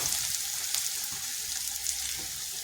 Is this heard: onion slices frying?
yes